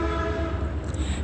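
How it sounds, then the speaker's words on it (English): A train rumbles steadily close by with a sustained horn blast, loud and continuous with no talking over it. "Pay attention to that train sound"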